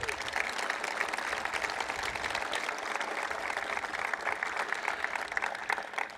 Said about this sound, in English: could you please give them a well-deserved round of thankful applause?